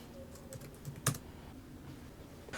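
Keystrokes on a computer keyboard typing a short response into a terminal during a Laravel and Vue setup, a few light taps then one sharper clack, close and alone.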